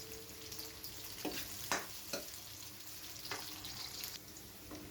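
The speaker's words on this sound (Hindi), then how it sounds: "इस तरह से आप प्याज को ब्राउन कर लीजिए।" Chopped onions frying in a pan as the base for shahi tarka mash dal, with a steady close sizzle and a few sharp clinks and scrapes of a stirring spoon against the pan.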